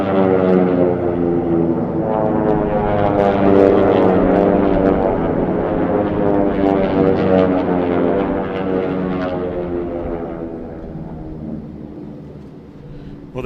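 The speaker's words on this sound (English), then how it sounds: "We're going to get to see and listen to these aircraft come by here by the steel start-finish line pylon" T-6 propeller aircraft race past the steel start-finish pylon at an air race, a loud, continuous droning roar of radial engines and propellers that holds steady, then eases slightly toward the end.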